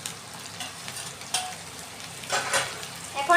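Chopped tomato fries with a fish head in a pan, a steady close sizzle broken by a few louder stirring scrapes and clinks toward the end.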